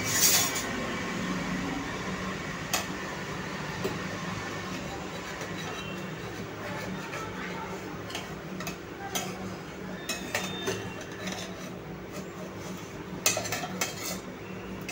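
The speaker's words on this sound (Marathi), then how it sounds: "पहिले आपण ह्याला एखाद्या चमच्याने वगैरे काढून घेऊया" A metal spoon scrapes and taps against a tray, prying cooled sesame and jaggery tilgul bars loose, with scattered clinks and scrapes over a steady low background hum.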